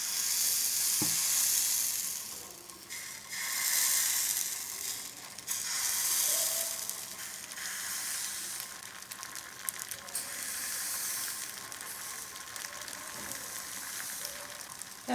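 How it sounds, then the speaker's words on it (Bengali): Rice flour batter for batasa pitha sizzles steadily in a hot pan, a continuous bright frying hiss with soft swells and a few faint clinks, no voices. "এখন আমি ব্যাটারটা দিয়ে দেবো প্যানে।"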